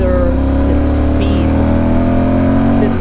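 A Yamaha Super Tenere motorcycle accelerates hard under throttle, its engine a loud, close, steady drone with rising tone throughout, and a rider speaking over it.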